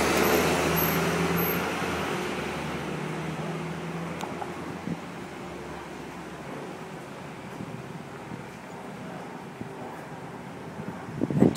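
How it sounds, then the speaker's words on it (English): Traffic passes through a city intersection at 20th and 7th, a faint, steady wash of road noise and engine hum with a few small knocks and a louder burst at the end. "This is the intersection right here"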